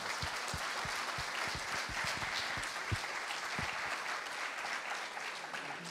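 Audience applause in a conference hall after a talk on artificial intelligence, steady clapping throughout with a few sharper individual claps standing out, moderately distant and sustained.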